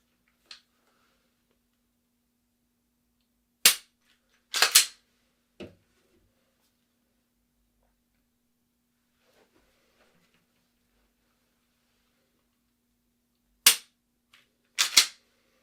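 Pistol gunshots ring out during defensive shooting practice: sharp single reports and quick pairs in short clusters, separated by long stretches of near silence.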